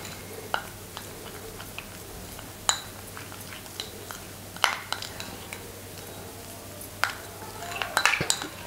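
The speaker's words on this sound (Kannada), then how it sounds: "ಇದಿಷ್ಟನ್ನು ಹಾಕಿ ಚೆನ್ನಾಗಿ ಮಿಶ್ರಣವನ್ನು ಮಾಡ್ಕೋಬೇಕು" A lemon juice and aloe vera gel face-pack paste is stirred in a small bowl, with a spoon giving light scattered clinks and taps that grow busier toward the end.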